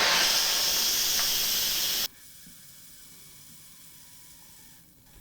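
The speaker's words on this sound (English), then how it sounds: "I just want to try to release the pressure as soon as I can" Loud, broad steam hiss blasts from an Instant Pot pressure cooker quick release for about two seconds, then drops abruptly to a quiet, steady hiss with a faint whine underneath.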